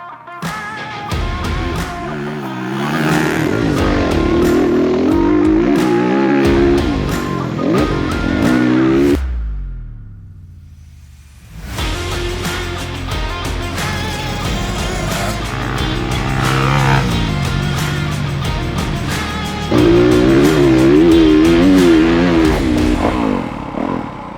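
A Honda CRF 300 RX enduro motorcycle rides a sandy motocross track at Chieve. The engine is loud and revs hard in choppy bursts, drops to near silence for a moment, then roars again with repeated throttle blips.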